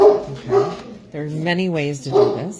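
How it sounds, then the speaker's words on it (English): A dog barks and yips a few times in a room during a papercraft class with embossing folders and dies, the short barks breaking in between a woman's speech. "sorry about my dog."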